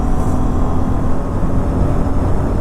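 Aprilia RS 457 motorcycle engine pulling hard on throttle during a winter night ride, a loud, steady low rumble with continuous broadband road and wind noise and no clear gear changes.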